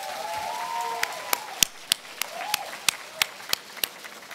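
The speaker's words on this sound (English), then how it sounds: "Let's have a round of applause for Kate." An audience at an awards event for women in innovation gives a short round of applause, with a few distinct, fairly faint handclaps spaced out over a few seconds.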